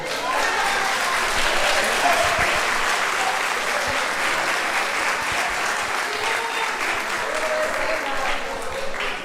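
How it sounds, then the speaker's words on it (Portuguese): A church congregation claps in praise at an anniversary service, sustained dense applause from a large crowd filling the room, loud and steady throughout with some voices mixed in. "E as palmas louvam ao Senhor"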